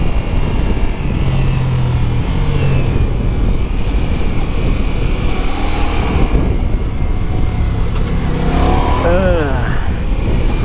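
Ducati Multistrada V4S 2021 touring motorcycle ridden hard on a race track, its engine a steady loud drone with wind rush throughout, rising in pitch near the end as a voice talks over it.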